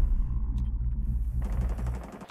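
Cannon fire in a Coastline match of a shooter game: a low rumbling barrage with rapid cracking blasts, growing into a denser burst of repeated shots in the second half.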